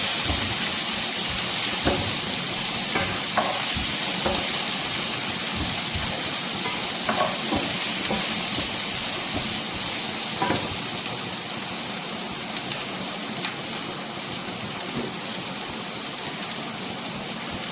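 Two onions sautéing in a pan until golden, a steady loud hiss and crackle of frying that runs continuously, with occasional faint clicks and knocks of a spatula.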